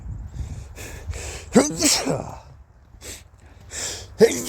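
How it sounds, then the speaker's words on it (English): A person sneezes sharply near the middle, with a second burst toward the end, amid quiet breathy talk and rustling in an otherwise calm setting. "Good sneeze."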